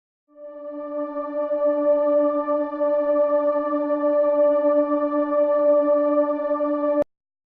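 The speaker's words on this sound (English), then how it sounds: "Nice sounding kind of choir type sound," A synth blur pad with a choir-like tone holds one steady, softly swelling chord after a gentle fade-in, sustaining evenly before cutting off abruptly with a small click.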